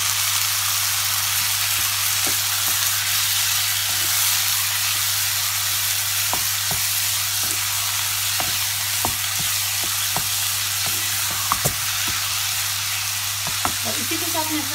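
Tomatoes frying with softened onions in a pan for Punjabi egg curry, a steady close sizzle and hiss with scattered sharp pops and spatters, a low constant hum beneath and a brief stirring clatter near the end.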